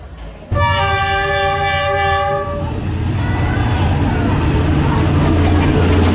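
A train pulling into a station blasts a long, loud, close multi-tone horn. The horn then gives way to a heavy continuous rumble and rattle of the passing cars.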